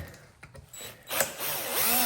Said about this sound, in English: So let me just drill out those wedges.